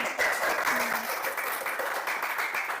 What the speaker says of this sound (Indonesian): beri tepuk yang meriah untuk kelompoknya Rika